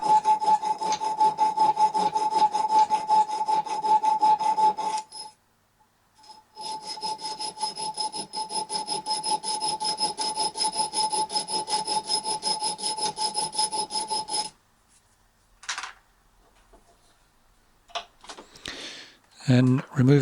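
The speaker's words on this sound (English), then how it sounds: "file part way through the metal just to create an initial gap" Triangular needle file rasping part way through mild steel held in a bench vise, with fast, even back-and-forth strokes, loud and close, a brief pause near the middle, then stopping before some scattered knocks.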